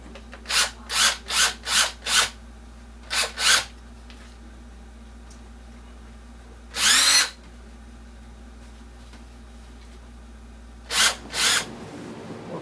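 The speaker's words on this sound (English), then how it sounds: "I think I'm going to try to put a screw in from the top here." A power drill drives a screw into wood for a gaming table build, in short repeated bursts of whirring, a longer burst in the middle and two more near the end, close and moderately loud with no talk.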